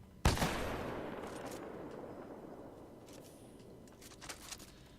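A sharp, loud gunshot from a sniper rifle in the shooter game Titanfall 2 cracks once near the start, then a long rumbling echo decays, with faint clicks and small reports near the end.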